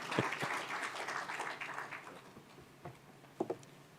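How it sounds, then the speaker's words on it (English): A conference audience claps for a presenter at a national dialogue on health financing, fairly quiet scattered applause that fades over a few seconds, ending in a couple of lone claps. "He says he's not coming until you clap properly."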